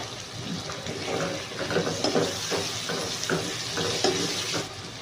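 Curry leaves dropped into hot oil in a frying pan while cooking an egg, paneer and potato paratha filling, giving a steady dense sizzle and crackle throughout with faint stirring.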